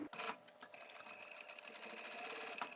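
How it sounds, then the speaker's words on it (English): A sewing machine stitches the external pockets of a tote handbag, a steady, fast mechanical whirring with a rapid needle rhythm running close and continuous for a few seconds. "Okay, I'm starting with the external pockets."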